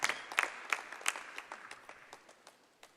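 Scattered audience clapping at a live political event, a few sharp claps near the start thinning into sparse, uneven claps that fade, fairly faint and distant.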